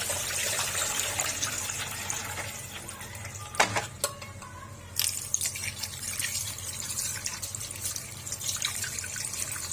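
Water from a tap flows and splashes as meat is washed in a sink, continuous and close, with brief clattering knocks partway through.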